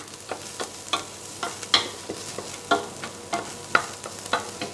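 Onions fry in a pan with a steady sizzle, while a utensil stirs them in regular scraping strokes about once a second.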